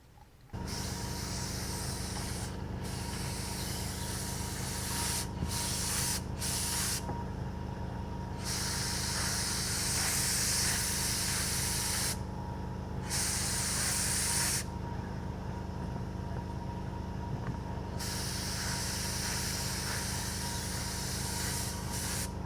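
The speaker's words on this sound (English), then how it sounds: "We'll spray a little test pattern on it, make sure we got it set the way we want it." A spray gun lays a test pattern onto fiberglass during boat restoration, a steady loud hiss in repeated long bursts broken by short pauses, with no talk.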